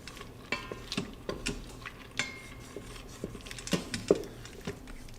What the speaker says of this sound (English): add just a little bit of beef broth so that I can deglaze the bottom of the pot